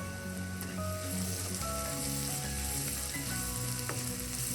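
Beans mezhukkupuratti stir-fries in a pan just after ground pepper is added, giving a dense, continuous hiss of frying with occasional stirring, steady and close, over a faint tonal background.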